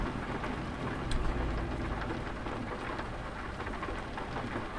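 Steady rain and rolling thunder in Euro Truck Simulator 2, a dense, continuous downpour with a low thunder rumble swelling around the middle, heard alone without talk.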